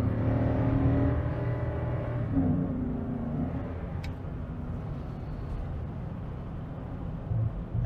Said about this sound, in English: All right, we'll do a quick drive.